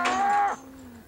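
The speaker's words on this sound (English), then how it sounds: "Other cows always seem to show a strong interest in the new calf." A cow on a dairy farm gives one brief, fairly close moo that lasts about half a second, followed by a quieter low tail. No other sounds accompany it.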